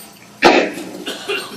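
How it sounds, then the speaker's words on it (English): Close, sharp coughing from a man demonstrating gold panning: one strong burst, then two smaller coughs in quick succession. "Sorry for my coughing."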